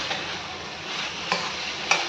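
Cashews, green peas and potato being stirred in oil in a pan, a soft scraping and gentle sizzle with a couple of sharper utensil knocks near the end.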